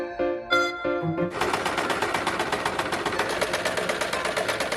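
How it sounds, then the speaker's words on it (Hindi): Sewing machine stitching a fabric mat, starting after a few soft thuds into a loud, fast, steady mechanical chatter that runs close and continuous to the end. "और जो भी ओपन वाला पार्ट है इसे भी यहाँ पर सिलाई से अच्छे से फिक्स कर देंगे।"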